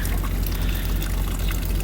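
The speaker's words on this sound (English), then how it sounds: "There's kind of some manure coming out of it." Manure and water trickling out of a cracked underground manure pipe in a dug-out hole, a steady, close, continuous gurgling flow.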